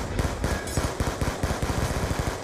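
Uzi submachine gun in Call of Duty Black Ops 2 firing rapid, loud, close bursts of automatic gunfire with brief gaps between strings of shots, no talking.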